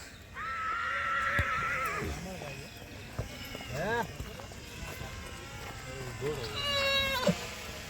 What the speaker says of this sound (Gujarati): સંજયભાઈની ઘોડી છે